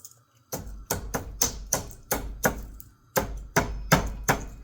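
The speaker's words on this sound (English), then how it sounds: "But I do enjoy the mortar and pestle, so I figured, why not? Let's use it." Spice pods are pounded in a mortar with a pestle, giving about a dozen close, hard thuds in quick, uneven bursts with a short pause midway, and no talking.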